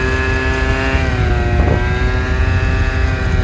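An MBK Booster 70 moped fitted with a Malossi kit buzzes loud and close, its two-stroke engine holding a high steady whine with a brief throttle blip partway through.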